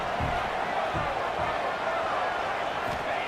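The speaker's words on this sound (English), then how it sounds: "Listen to the crowd energy here in the early going" Steady roar of a large stadium crowd at a football game, a dense continuous wash of voices filling the air with a few dull low thumps underneath.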